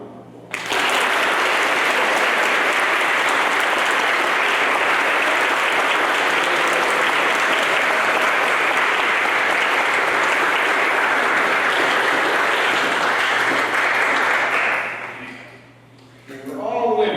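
Audience at a state mock trial tournament final gives the teams a long round of applause, dense and loud for about fourteen seconds before tapering off, with voices starting up at the end.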